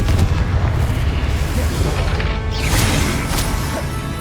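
A Confringo fire spell blasts in Hogwarts Legacy, giving a loud, dense rumbling explosion with a crackling burst and a sustained roaring tail, heavy low booms filling the whole stretch.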